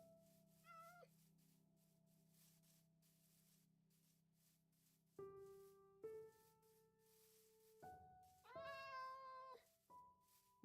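Minecraft cats meow in a quiet game scene, giving a few short, clear meows spaced apart with near-silence between them.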